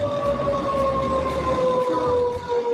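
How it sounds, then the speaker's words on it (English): Warning sirens wail steadily, one nearby tone and another in the background, the second rising as it switches from dying batteries to mains power; no talk. "Hear that other siren suddenly get much perkier? It just switched from dying batteries to line/main power."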